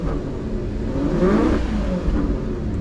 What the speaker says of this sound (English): Let's take a listen at the exhaust system.